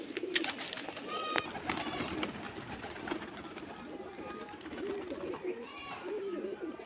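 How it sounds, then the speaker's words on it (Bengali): Pigeons on a rooftop, among them a biscuit-coloured Giribaj tumbler, give soft cooing calls at low volume over steady outdoor background noise and a talking voice. "এই যে পায়রা দেখতে পাচ্ছেন"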